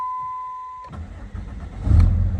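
A Dodge 3rd gen truck with about 388,000 miles cranks and fires, a steady chime sounding before the engine catches and rumbles louder, swelling to a strong idle close by.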